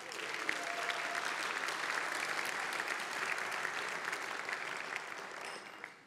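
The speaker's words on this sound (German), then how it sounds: "Bitte auch für diese Musik einen herzlichen Applaus." Warm, even applause from a large audience at an anniversary celebration in a concert hall, continuous dense clapping heard at moderate distance that tapers off slightly at the end.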